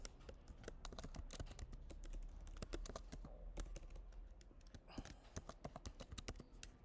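Rapid, uneven clicking of keys on a computer keyboard, close and fairly quiet, with short pauses between bursts of typing.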